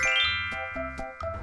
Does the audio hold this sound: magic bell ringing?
yes